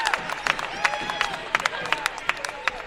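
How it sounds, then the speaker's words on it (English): Scattered hand claps from a team bench at a girls high school basketball game ring out irregularly over crowd murmur and echoing gym noise. "The bench is clapping their hands and smiling ear to ear."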